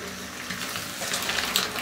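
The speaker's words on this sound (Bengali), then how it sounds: "তেলের মধ্যে হলুদ দিয়ে ভাজলে কালারটা খুব ভালো হয়" Eggs frying in oil with turmeric, made for a cauliflower and egg curry, give a steady, close sizzle with a faint crackle that builds slightly toward the end. Nobody speaks.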